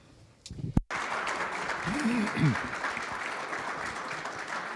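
After a brief burst of speech, an audience at a ceremony marking Poland's NATO membership breaks into sustained applause, an even, moderately distant clapping texture with a voice briefly rising over it.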